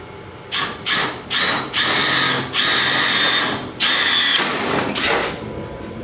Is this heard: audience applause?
no